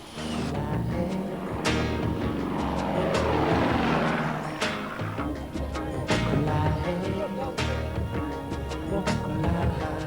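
Light propeller planes, Cessnas and Beechcrafts of an aid air rally, drone overhead with a loud, rising and falling engine roar that sweeps past, joined by sharp knocks and rattles.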